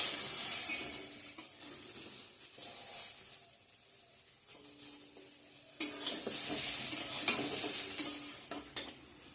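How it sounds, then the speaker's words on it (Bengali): Eggplant frying in a pan, with a steady hiss of oil in bursts and quieter stretches between them, close up and with no talking. "বেগুন ভাজা করে নিচ্ছি বন্ধুরা।"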